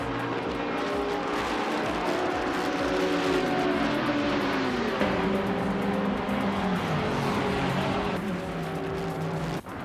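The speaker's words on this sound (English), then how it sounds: "Wowk CB and Calican Bunny are also fighting hard for fourth." Racing cars in a video game race, several engines droning loudly and continuously with shifting pitch as cars battle for position, no voices.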